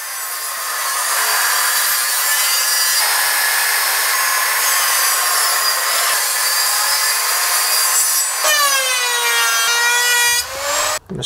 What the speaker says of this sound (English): the goal will be to cut my final 3 inch by 3 inch leg out of that larger piece